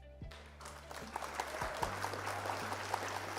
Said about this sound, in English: By the way, round of applause for Lilian, who took place number 1.